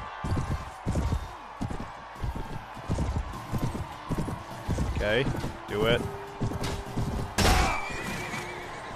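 Horse hooves pound in a rapid galloping clip-clop during a Mount & Blade: Warband battle, with shrill whinnies cutting in midway and near the end, loud and close, while someone talks briefly over it.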